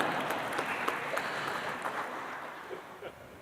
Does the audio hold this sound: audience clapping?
yes